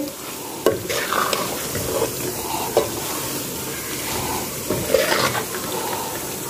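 Okra stirred with garam masala in a hot pan, close scraping strokes of a spoon over a constant sizzle, with no talking.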